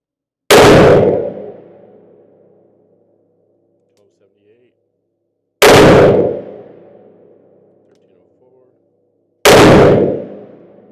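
Three loud, close 44 Magnum revolver shots from a Taurus Tracker with a 2.5-inch barrel, firing Hornady 200 grain XTP rounds; each sharp blast rings and decays over a few seconds, with long quiet gaps between them.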